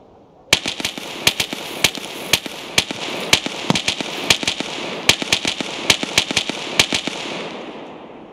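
Rapid gunshots crack out in Escape from Tarkov, played with a single-player SPEAR mod: dozens of sharp, loud reports in irregular bursts over a continuous background rumble, with no talking.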